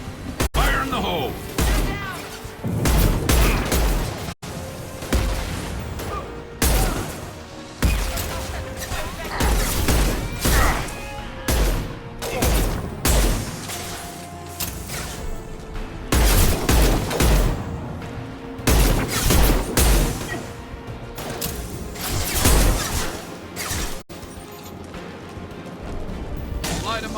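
A grenade explosion and rapid gunfire in the video game Mass Effect 2: loud repeated bursts of shots and heavy crashing booms across a long combat stretch, with voices calling out between volleys.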